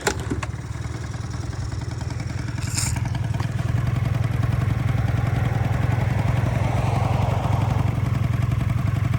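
A Honda Tact AF-51 scooter engine is kick-started, sputtering to life after a short clatter, then settles into a steady, buzzing idle that runs loud and close.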